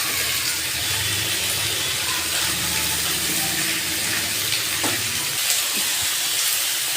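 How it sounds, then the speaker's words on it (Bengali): Winter vegetables and mitulli frying in a pan give off a steady, dense sizzle, with occasional stirring clinks over the constant hiss. "সবজিগুলো একটু নাড়াচাড়া করে ভেজে নিচ্ছি এর মধ্যে মিঠুলিগুলো দিয়ে দিলাম"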